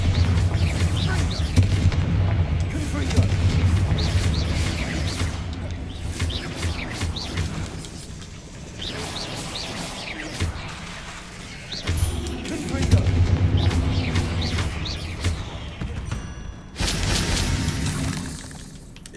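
Heavy cannon-like booms from a bombarder in a fantasy video game, repeated loud blasts and crashing impacts over a dense, busy game soundscape.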